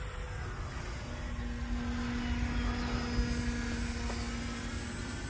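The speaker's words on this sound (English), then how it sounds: "This airplane is a blast to fly" A Tower Hobbies Sbach RC model airplane drones overhead with a steady high engine whine, the pitch holding level as it cruises during aerobatic flying.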